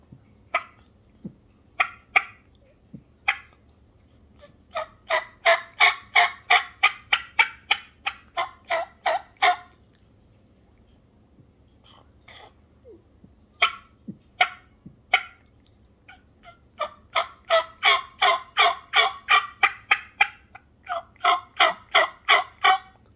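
A Hook Hunter Ridge Beater mouth call imitates a wild turkey with rapid rattling gobble-like bursts and yelp sequences in rhythmic runs, loud and close, separated by brief pauses and a few softer single clucks.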